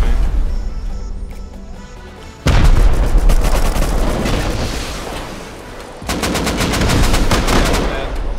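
Rockets fire during a Rust base defense, with heavy booming launches and explosions mixed with rapid automatic gunfire in loud bursts that kick in abruptly twice, near and intense.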